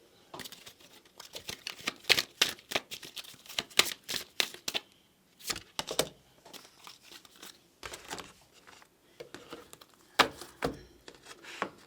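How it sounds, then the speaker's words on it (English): A deck of oracle cards is shuffled by hand in repeated bursts of quick, crisp riffling and flicking, with short pauses between rounds, close and fairly clear. "let's bring out some oracle cards"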